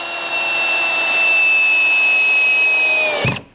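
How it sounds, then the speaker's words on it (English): Ryobi ONE+ HP drill running steadily at speed 1 as it drives a 3-inch drywall screw: a loud, continuous high whine that holds for about three seconds before the motor stops abruptly and the screw seats. "We have those 3-inch drywall screws. Let's see how it does in speed 1."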